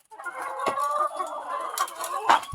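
Backyard chickens cluck close by, a few rising, throaty calls in quick succession with short pauses, fairly clear and moderately loud.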